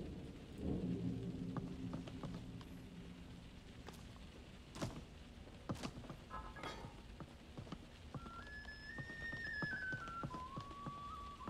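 Steady rain falls over a Skyrim city scene, a soft, continuous hiss with scattered drips and faint clinks. A few sharper knocks and a brief rising tone come through near the end. Quiet, with no talking.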